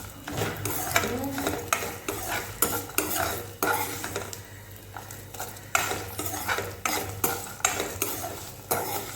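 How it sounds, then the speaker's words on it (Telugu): Ivy gourd (dondakaya) pieces fry in a hot pan, a steady sizzle under repeated scraping and clinking strokes of a spoon stirring against the metal, close and fairly loud. "బాగా వేగినాయండి."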